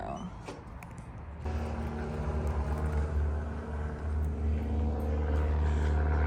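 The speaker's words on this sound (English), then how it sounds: "Right next to a little airport with very noisy little airplanes." A small propeller plane from a nearby little airport drones loudly overhead, its engine hum steady and rumbling, growing stronger after a brief quieter start.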